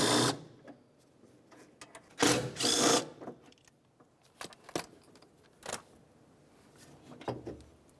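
Short bursts of a power tool whir and ratchet as 10mm wiper mechanism mounting bolts are removed on a 2004-2006 Scion xB, separated by quiet gaps and light clicks of metal parts.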